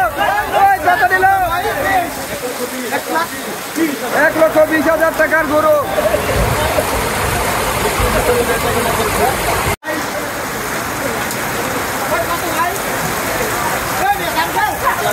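Heavy rain pours steadily over a crowded outdoor cattle market, a constant wash of patter beneath shouting voices and talk.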